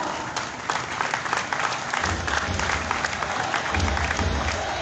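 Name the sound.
audience applause welcoming a guest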